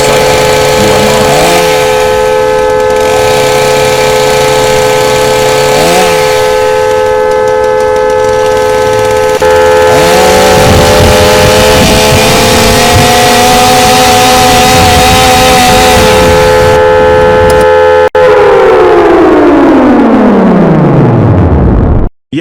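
A tornado siren wails loud and close, holding steady rising and falling tones over rumbling machinery, then winding down in a long descending glide at the end.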